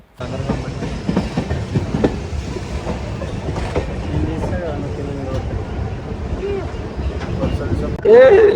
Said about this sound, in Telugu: ఆల్మోస్ట్ అయితే ట్రైన్ ఎంట్రీ అయిపోయింది